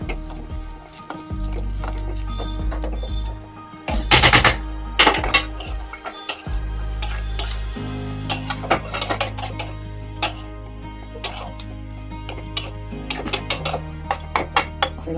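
Boiled potatoes mashed for vegetable chop, repeated sharp clanks and scraping of a utensil against a pot in uneven bursts over a steady low hum, with no talking.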